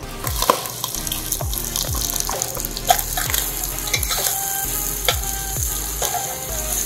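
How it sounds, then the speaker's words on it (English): Onions fry in beef fat and butter with a loud, continuous sizzle and crackle. A spoon scrapes and stirs the pan again and again in a steady rhythm, close up and with no talking. "we're gonna cook our onions and garlic and everything else in that wonderful beef fat and butter"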